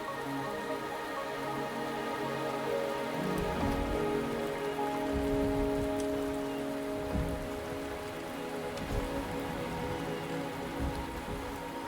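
Steady rain falls in the video game Wuthering Waves, a dense, even hiss of drops on surfaces that runs unbroken throughout. Soft background music plays underneath the rain.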